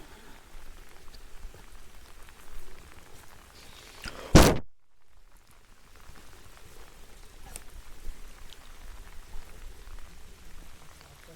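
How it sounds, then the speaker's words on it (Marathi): Steady rain patters on a surface throughout at Kalavantin Durg fort in India, interrupted by one sharp, loud knock partway through. "हा पाऊस चालू झाला"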